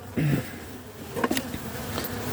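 Short bursts of honeybees buzzing up close on a hive frame, rising and fading over a quiet background.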